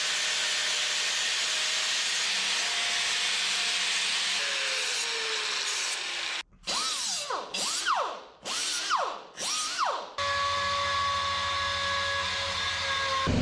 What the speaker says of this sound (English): Obviously, we're cutting out some sheet metal.